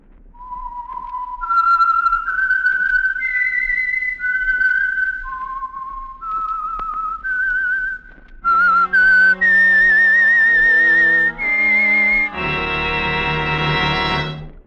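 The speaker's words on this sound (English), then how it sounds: "the signal to listen for is this whistle that identifies the Signal Oil program" A solo whistled melody of clear sustained notes rising and falling, the signature tune of the radio mystery program The Whistler, then answered by brighter, layered instrumental tones carrying the same tune.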